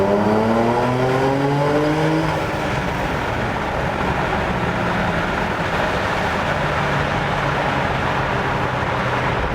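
Porsche Macan GTS 3.0 V6 running in Sport Plus mode with the sport exhaust open, its engine rising in pitch as it accelerates, loud and steady, then holding a droning cruise with road noise.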